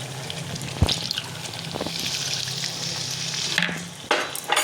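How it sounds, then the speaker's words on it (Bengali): Water rinsed from a bowl is poured into frying mutton masala for Kashmiri rogan josh, and a steady hissing sizzle swells, stirred with a sharp scrape at the start and clatter near the end. "বাটিটা একটু ধুয়ে জল দেবো আমি।"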